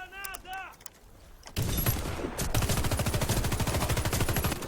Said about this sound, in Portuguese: Começamos a disparar na sequência. Vamos atirar outra granada.